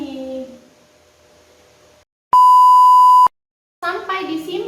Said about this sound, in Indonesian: handphone dia kembali berbunyi